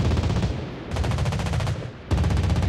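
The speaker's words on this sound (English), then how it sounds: "Anti-aircraft gun on full alert." Anti-aircraft guns aboard the French tier 6 cruiser De Grasse in World of Warships Blitz, rapid rhythmic bursts of loud close fire in two long strings separated by a brief pause.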